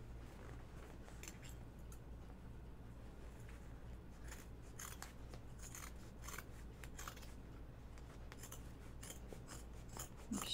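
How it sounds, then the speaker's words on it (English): Scissors trim stretchy fabric binding while a pocket bucket is being sewn, giving a run of quick, crisp snips and rasping cuts close by, with no talking. "I just kind of trim it a little bit up"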